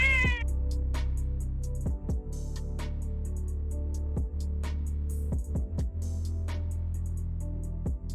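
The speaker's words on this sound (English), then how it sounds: "we definitely picked up my cat screaming in the background again" A house cat meows and yowls in the background, several separate calls spread across a steady hum, moderately loud and with no talk.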